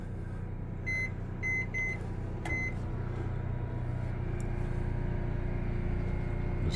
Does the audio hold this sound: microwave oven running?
yes